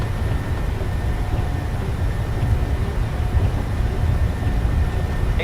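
Airliner engines spool up for takeoff in Microsoft Flight Simulator 2020, a loud, steady, deep roar that holds level throughout with no voices over it.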